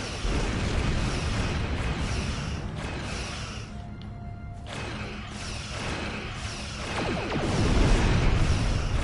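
Starship torpedoes fire and explode in Star Trek Online as a dense, continuous roar of blasts and rumbling crashes. The sound thins briefly midway, then swells louder again toward the end.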